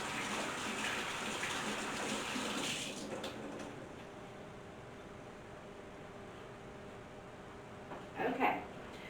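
Tap water runs and splashes as hands are washed after handling raw pork in a home kitchen, a soft steady gush that cuts off partway through and leaves quiet room sound, with a brief clatter near the end.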